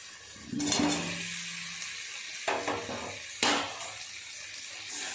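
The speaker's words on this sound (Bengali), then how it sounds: "আলু পটল দিয়ে আরও ভালো করে একটু কষিয়ে নেব মশলার সাথে" Fried potatoes and pointed gourd being stir-fried with spices in a pan, a moderate sizzle broken by a few louder scraping stirs.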